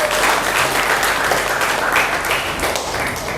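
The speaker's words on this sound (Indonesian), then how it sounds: "tepuk tangan untuk kita semua" Steady, dense applause from a group at a school class gathering fills the whole stretch at an even, loud level.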